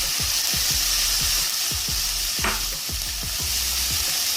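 Capsicum, carrots and peas being sautéed in a pan, with a steady sizzle under a rhythmic series of spatula strokes scraping and stirring the vegetables, close and fairly loud.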